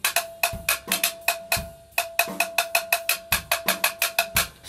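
Zildjian fx Stacks stacked cymbals with the screw tightened hard, struck in a quick rhythmic pattern of short, hard, dry trashy clanks with a faint ringing overtone, close and without talk.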